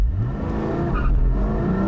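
A 2020 Porsche 718 Spyder engine rises in pitch as it accelerates, a close, steady rumble with a brief tire squeal in the middle, then the revs settle as it brakes.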